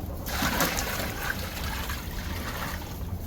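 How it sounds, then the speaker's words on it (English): Household tap water runs steadily during chores, a close continuous trickle and splash that starts suddenly and carries on alone. "Alright, water."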